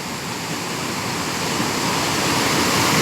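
A secret waterfall in Taiwan roars as a steady, dense rush of falling water, loud and continuous, slowly swelling, with no voices.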